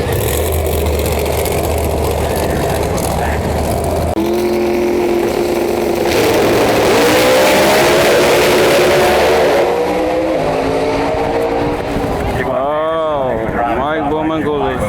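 Drag race cars make their runs at the Snowbird Outlaw Nationals, with loud engine roar and rising revs building under continuous commentary.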